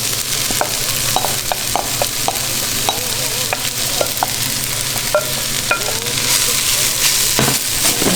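Mushrooms and shallots frying in a pan, a loud, steady sizzle with scattered scraping and stirring taps throughout.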